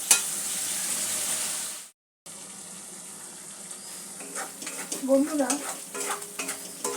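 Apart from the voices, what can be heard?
spice paste frying in oil until the oil separates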